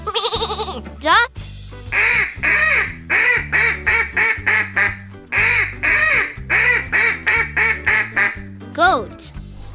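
A duck quacks in a long, rapid run of loud nasal calls over a bouncy musical backing, with a rising sweep at each end.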